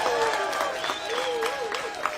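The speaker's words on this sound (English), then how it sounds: "Let's give Leslie another round of applause." Outdoor voting-rights rally crowd at a finish line applauding and cheering, a fairly distant, continuous wash of clapping with voices throughout.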